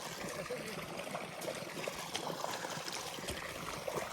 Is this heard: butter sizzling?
no